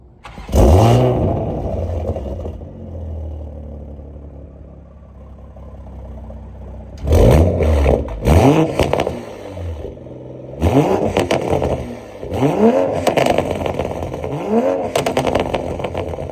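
A Toyota Supra Mark 5 exhaust, parked in a park, barks to life and then rises through several sharp revs in bursts with crackles between them, loud and close.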